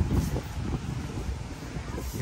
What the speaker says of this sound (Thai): ลมพัดเลยเฮีย